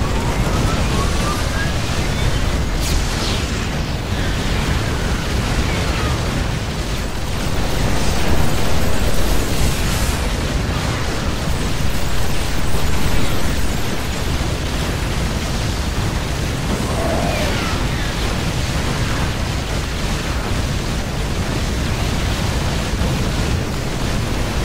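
Dense, continuous battle roar from a StarCraft II Terran-versus-Terran fight, with battlecruisers and other units firing and explosions piling up into a loud, broadband wash that swells mid-fight and stays steady throughout.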